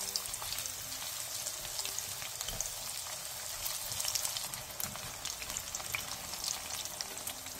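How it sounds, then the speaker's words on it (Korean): Burdock root frying in generous oil in a pan over medium heat, a steady dense crackling sizzle with fine popping, continuous and close throughout, no voices. "팬에 기름을 살짝 넉넉하게 두른 뒤 우엉을 넣고 중불에서 노릇노릇하게 튀겨내주세요."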